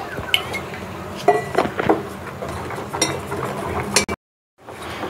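Gram flour batter is whisked in a bowl with a spoon, giving repeated close clinks and scraping strokes against the bowl in an irregular rhythm, then a brief cut to silence before the mixing resumes.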